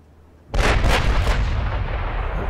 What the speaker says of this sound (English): we've got another volley coming at him